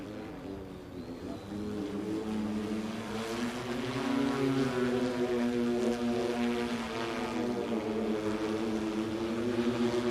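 A propeller aircraft comes in to land at a short takeoff and landing competition at Sun 'n Fun, its engine a steady, fairly distant droning hum that holds throughout.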